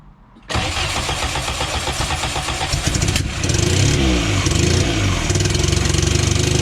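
VW Golf Mk2 engine starting after sitting for five years, with fuel dribbled into the carburettor: a loud, close crank that catches, then a rough, uneven running rumble that rises in revs partway through and keeps going.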